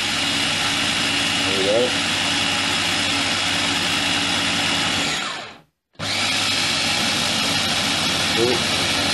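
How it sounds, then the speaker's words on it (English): A mixer motor drones loudly and steadily while churning cream into butter, straining under the thickening load, then cuts out briefly before starting up again; a voice speaks over it. "The motor starting to labour."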